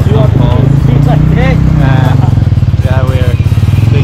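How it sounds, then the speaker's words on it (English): Motorcycle engine droning steadily under a passenger riding pillion on the way to Kawasan Falls in Cebu, Philippines, with people talking over the constant rumble throughout. "we're doing back riding on the motorcycle"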